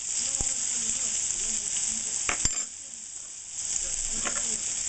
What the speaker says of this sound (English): I'm going to add my garlic now.